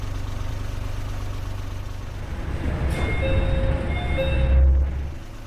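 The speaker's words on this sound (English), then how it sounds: "The train on the Kisei Main Line departed the station right after our doors closed." A Kisei Main Line train engine rumbles steadily at a station in Japan, then swells with a rising whine and tonal hum as it pulls away.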